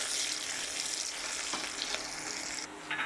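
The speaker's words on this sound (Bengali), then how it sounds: "পেঁয়াজটা একটু বাদামি করে ভেজে নিতে হবে" Onions and garlic fry in hot oil until brown, giving a steady bright sizzling hiss up close, with a couple of faint stirring scrapes and a slight drop in intensity near the end.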